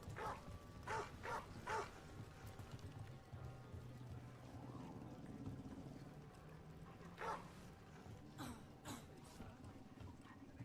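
A puppy in a fantasy role-playing video game gives several short, faint yips and whimpers in scattered bursts over a low background hum.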